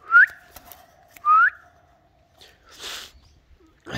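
A pet parrot gives two short rising whistles close by, followed by scattered clicks and a soft noisy rustle in an otherwise quiet room.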